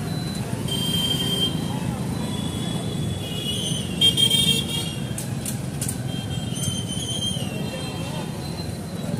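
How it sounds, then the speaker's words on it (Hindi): Heavy road traffic on a busy bypass rumbles steadily close by, with several car horns tooting briefly over the dense engine noise. "बहुत ही ट्रैफिक है।"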